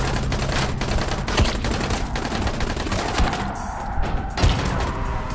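Gunfire aimed at the player in the Dying Light video game, dense and loud, with rapid overlapping shots and heavy impact thuds over continuous game noise, no voices.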